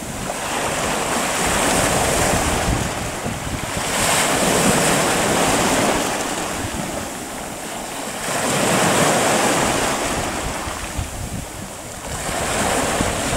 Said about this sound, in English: Riding the waves, Bear